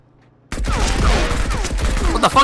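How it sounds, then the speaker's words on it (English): Gunfire in a sci-fi space-pirate PvP shooter bursts in suddenly after a quiet start and keeps up as a dense, loud volley of shots and impacts for a couple of seconds, with no talk over it. "What the fuck is that? A shotgun!"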